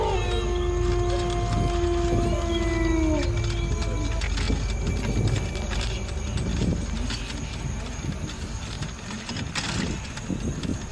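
A jackal howls at night, a long wavering cry that slides downward over the first few seconds, then gives way to a dense, rustling night-time background.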